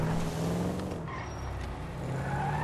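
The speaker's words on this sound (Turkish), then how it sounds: "Arabayı park ediyorum." A car idles and rumbles steadily at close range while it is parked in GTA 5, its engine tone sinking slightly midway and then rising again.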